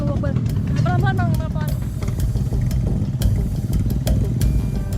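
A motorcycle taxi labours over steep, slippery, rocky village terrain in Girimukti, Indonesia, its low engine rumble and clattering running steadily beneath a man's close, continuous talk.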